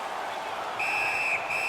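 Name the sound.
referee whistle at ice hockey game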